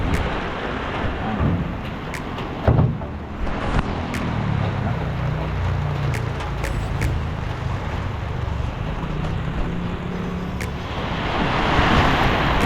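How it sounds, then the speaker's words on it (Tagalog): Heavy rain pours down in a dense, constant roar on a leaking roof, with occasional sharp drips and taps standing out. "lakas ng ulan ito"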